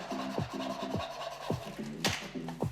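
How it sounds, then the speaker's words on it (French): A hand file rasps over the cut end of a toilet drain pipe to remove burrs and taper it, producing about eight quick, regular scraping strokes that are close and fairly quiet, with no talking. "Retirez les bavures à l'aide d'une lime et rendez l'extrémité conique pour faciliter le montage."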